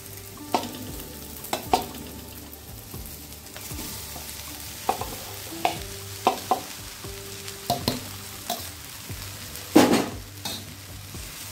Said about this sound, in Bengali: এবার দিয়ে দেবো রাইসটা